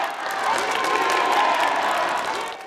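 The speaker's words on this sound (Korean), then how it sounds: "무죄를 선고받은 이 대표가 법정을 나오자 박수가 쏟아집니다." A crowd gathered outside a Seoul courtroom bursts into steady applause and cheers after a not-guilty verdict, a dense, fairly loud wash of clapping and voices that swells and then eases over a few seconds.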